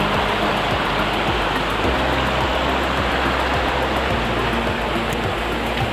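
A river flows beside a hot spring pool at Galunggung, Tasikmalaya, a steady, dense rushing wash of water that fills the whole stretch without pause.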